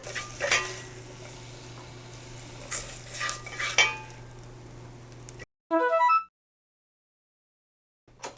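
Mushrooms are stir-fried in a Staub cast iron pot, a close, steady sizzle with scraping utensil strokes against the pot, which cuts off abruptly before a brief chime-like tone.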